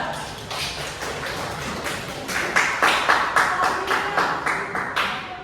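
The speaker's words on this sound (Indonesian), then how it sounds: "Kita tepuk tangan dulu untuk kelompok 3" A group claps together in a rhythmic, near-unison pattern that grows steadier and louder, like a room full of people clapping in time.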